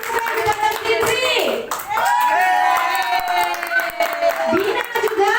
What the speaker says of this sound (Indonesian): Kita beri tepukan kepada Fitri.